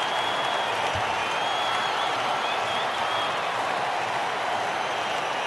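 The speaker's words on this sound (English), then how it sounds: "Listen to that crowd. They're going nuts." Stadium crowd roaring in a WCC3 cricket video game during an India versus Australia match, a steady, dense wall of cheering and noise that holds loud and unbroken throughout, with no talk over it.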